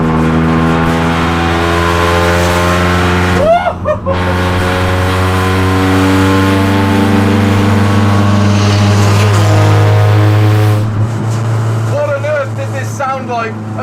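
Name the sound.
race car engine revving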